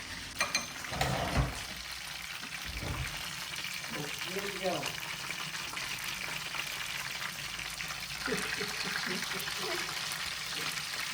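Straw mushroom tempura frying in hot oil, a soft steady crackle and bubble under nearby voices in a Vietnamese home kitchen, with a few clinks of utensils early on.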